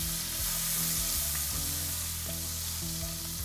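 Minced garlic in browning butter gives a loud, dense, continuous sizzle right up close, with a low hum underneath and no speech.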